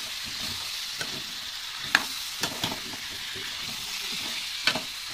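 Prawn curry with sweet pumpkin stir-fries in a pan, giving a continuous close sizzle with scattered scraping knocks from the stirring spoon.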